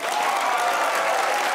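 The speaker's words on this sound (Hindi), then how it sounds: "बजाइए तालियां" A studio audience at a comedy talk show applauds, a dense, even burst of clapping that sounds moderately close and lasts only a moment.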